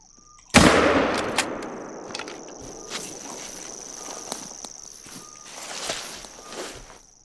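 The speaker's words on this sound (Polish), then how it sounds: "Piękny strzał." A single loud gunshot fired while hunting at night in the video game The Hunter, a sharp blast followed by a decaying echo, then quiet ambient night sounds with faint crickets and rustling.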